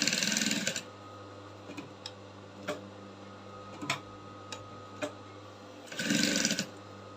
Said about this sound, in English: I'll top stitch till the end, spreading out everything